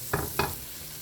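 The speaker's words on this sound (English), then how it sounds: "we're gonna let that butter" Butter melting in a pan for chicken pot pie gives a low, steady sizzling hiss, broken by two quick scraping stirs close by.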